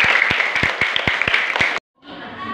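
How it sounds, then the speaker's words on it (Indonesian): Children clapping at a digital reading corner event, a run of sharp distinct hand claps over a bright noisy background, cutting off abruptly to near silence before a fainter murmur resumes. "Wih, tepuk tangan yang meriah."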